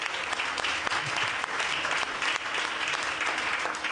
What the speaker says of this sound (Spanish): Un fuerte aplauso para Manena